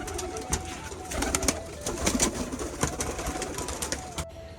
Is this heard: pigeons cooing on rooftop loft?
yes